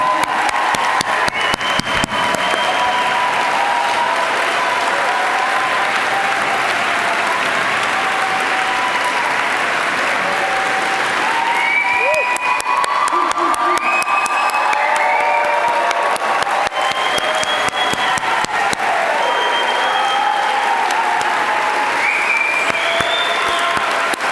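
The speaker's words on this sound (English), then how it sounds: "Will all of our guests please help me have a round of applause?" Guests at a pharmacy white coat ceremony give sustained applause for the new student pharmacists. Dense, loud clapping runs unbroken for over twenty seconds, with cheers and whoops rising above it in the second half.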